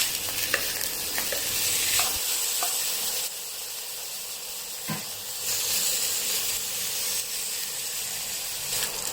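Pork belly stir-fried in a pan for a Thai salt-and-chili dish, with a steady sizzling hiss and intermittent scraping stirs and small pops, moderately loud, with no talking.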